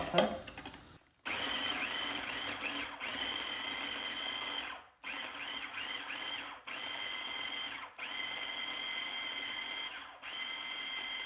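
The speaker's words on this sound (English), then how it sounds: "I've grinded the ginger and the garlic and the chilies together" Garlic, ginger and chilies whirring in an electric grinder, loud buzzing pulses of a few seconds each, separated by short pauses, repeated about five times.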